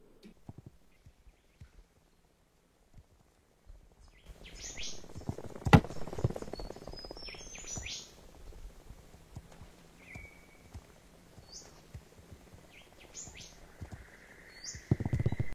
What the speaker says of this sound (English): I like the sound of birds.